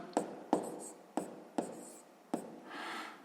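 A pen writes a decimal fraction by hand on paper, making five crisp taps and short scratchy strokes at an uneven pace, then a longer soft scribble at the end.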